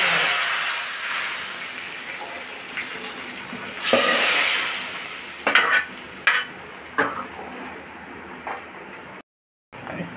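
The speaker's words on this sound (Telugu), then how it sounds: "ఎండుమిర్చి, కల్లిమాకు వేసుకోవాలి, కొద్దిగా ఇంగువ వేసుకోవాలి." Dry red chillies, curry leaves and asafoetida hit hot oil for a sambar tempering, giving a loud hissing sizzle that flares up, then several sharp spluttering pops as the crackle settles, close and without talk.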